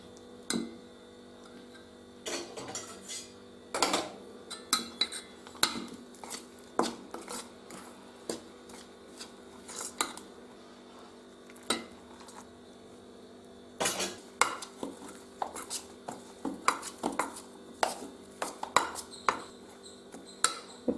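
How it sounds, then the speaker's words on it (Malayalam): Rice flour being mixed with salt and hot water in a bowl for kozhukkatta, giving a steady run of light clicking and scraping taps of a spoon against the vessel, close and quiet, with no talk. "ഉപ്പിട്ട് കൊടുത്തിട്ട് ചൂടുവെള്ളം ഒഴിച്ചിട്ട് ഇതൊന്ന് കുഴയ്ക്കണം കേട്ടോ."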